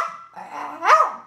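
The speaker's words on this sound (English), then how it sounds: "Excuse the dog, he's in here too." Chihuahua dog indoors, barking close by with a short growl, a couple of loud rough yaps that swell toward the end.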